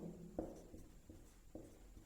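Chalk or marker writing on a board during a geometry lesson, soft scratchy strokes tapping in a quick irregular rhythm, close and faint with a teacher speaking at times.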